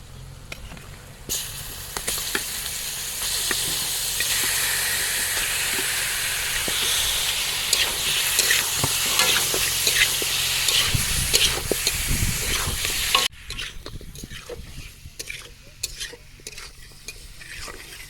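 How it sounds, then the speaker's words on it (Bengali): Deshi chicken is cooked in spices inside a pot aboard a boat on the Padma river, producing a loud, steady sizzle with stirring scrapes throughout until the hiss abruptly cuts to quieter scraping near the end. "মশলা ভাজা হয়ে গেছে হ্যাঁ এখন দিয়ে দেবো চিকেন হ্যাঁ দিয়ে দাও একদম দেশি চিকেন"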